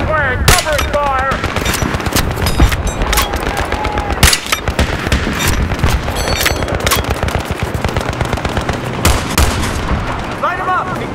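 Heavy sustained gunfire in a Battlefield 3 combat mission: dense, rapid machine-gun bursts and sharp single shots crackle continuously. Shouted voices come through between the shots.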